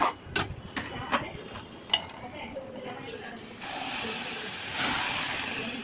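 Water poured into a hot cooking pan sets off a loud, steady sizzling hiss that swells after a few seconds, following scattered clinks of utensils against cookware in a home kitchen.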